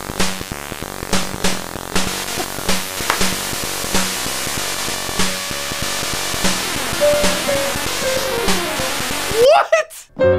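Chiptune music from a ZX Spectrum home computer plays loud and up front: a rhythmic, buzzy pattern of beeping notes and percussive ticks, ending in a sharp rising sweep near the close.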